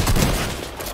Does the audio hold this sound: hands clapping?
no